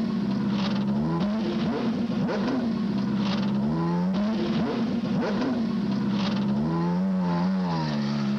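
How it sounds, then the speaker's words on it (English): CART Indy-style race cars at the 1994 Long Beach street circuit in California start up and rev, a continuous loud engine roar that repeatedly rises and falls in pitch with no talk. "Gentlemen, start your engines."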